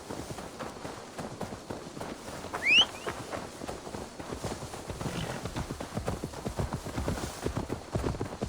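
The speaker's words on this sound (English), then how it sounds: "Now to deliver Magni his horse." Steady clip-clop of horse hooves from the Viking-era game Assassin's Creed Valhalla, an even trotting rhythm that runs throughout at moderate level, with faint ambient background and no speech.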